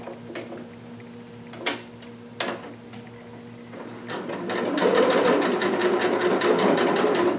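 A sewing machine stitches over fabric during a sew-along, starting with a few short clicks and bursts, then running steadily and loudly in a fast, even rattle for the last few seconds.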